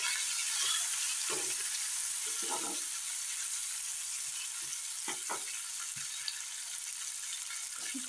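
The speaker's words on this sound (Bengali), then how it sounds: "এখানে আলুগুলিও ফ্রাই করে নিচ্ছি, একটু সিদ্ধ করা আলু।" Boiled potatoes fry in a pan with onion, garlic, ginger and two cardamom pods, giving a soft continuous sizzle with scattered scraping and stirring knocks, close but fairly quiet.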